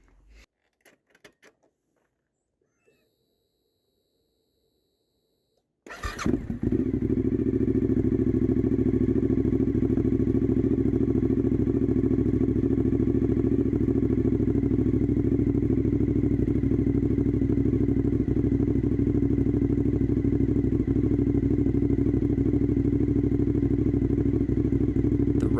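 A sport bike motorcycle starts up after a near-silent stretch and then rides continuously, its engine a steady loud drone with wind noise for the rest of the run.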